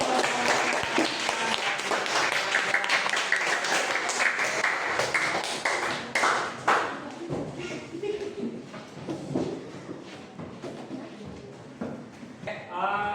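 Classroom applause breaks out loudly at first, then thins into scattered claps and taps as students' chatter and shuffling take over toward the end.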